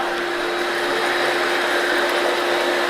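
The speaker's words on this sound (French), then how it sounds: "Là on voit vraiment l'efficacité des brosses" A Midea S8+ robot vacuum cleaner runs steadily up close with its side brushes spinning, giving a loud, continuous whirring hum with a constant pitched motor whine and no talking.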